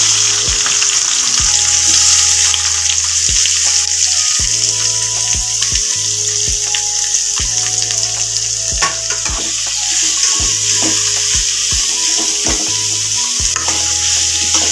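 Steady, loud sizzling of chopped onions sautéing in a pan, with occasional stirring clatter and soft scraping throughout.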